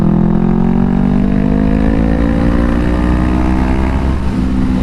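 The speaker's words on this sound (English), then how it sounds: "I wish you guys can hear this this exhaust in person." A loud, steady exhaust from a 2020 Honda CBR500R motorcycle drones close by, its pitch slowly rising as the engine pulls under throttle, with no talking.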